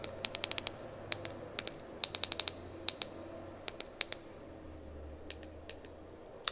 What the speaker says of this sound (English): Sorry guys for the clicking sounds.